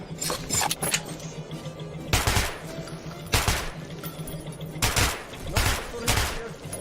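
Loud gunshots in the Metro 2033 video game, a few sharp separate bursts over a steady low hum, with someone talking between them.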